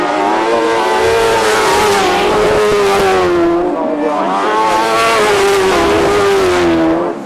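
Sidecar grasstrack racing machines roar into a corner together, loud and close, engines revving in a continuous rising and falling drone with overlapping pitches as the outfits sweep past.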